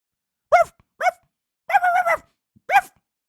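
Several people take turns imitating dog barks with their voices, four short separate barks with brief gaps, close and fairly loud with no other sound between them.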